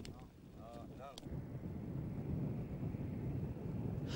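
Strong desert storm wind roars on a long road across the desert, starting as a faint rush and then swelling into a steady, loud low rumble that buffets the microphone for the rest of the clip.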